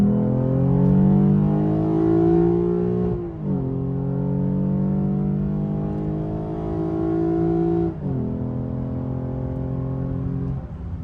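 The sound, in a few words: 2017 Lexus IS 350 with RR Racing tune accelerating 40 to 100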